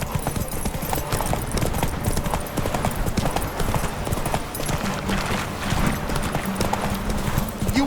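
Geralt's horse Roach galloping in The Witcher 3: Wild Hunt, rapid rhythmic hoofbeats pounding steadily and close throughout, with a brief snort or whinny near the end.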